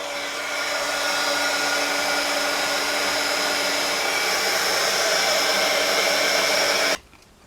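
A heat tool blows hot air to melt embossing powder on paper earrings, a loud steady whirring hiss with a constant tone that runs for about seven seconds and then cuts off abruptly.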